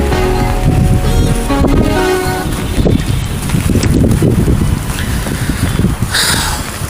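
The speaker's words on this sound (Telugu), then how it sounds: "చల్ల గాలి" Steady, loud wind rushes and buffets the microphone throughout, a constant roar outdoors.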